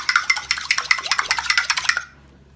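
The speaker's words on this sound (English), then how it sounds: "stir it up" An egg being stirred into milk in a bowl, a quick run of about a dozen close, bright clinks of a utensil against the bowl in steady rhythm, ending abruptly.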